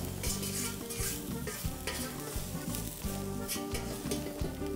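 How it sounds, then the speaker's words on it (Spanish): Garlic sizzling in hot oil in a restaurant kitchen pan, a steady loud crackle with repeated stirring scrapes throughout, no talking. "Así tronamos un poquito nuestro ajo."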